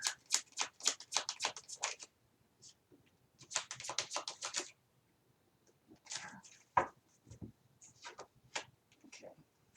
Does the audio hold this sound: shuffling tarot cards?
yes